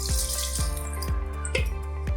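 Plain tap water pours into a vessel to soak cauliflower, a steady close splashing stream with rhythmic sloshing pulses recurring about twice a second.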